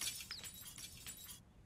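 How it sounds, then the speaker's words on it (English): Glass shatters in the zombie survival game Project Zomboid, a bright crash with scattered tinkling shards that runs on for over a second and then cuts off abruptly, with no one talking. "Remove broken glass."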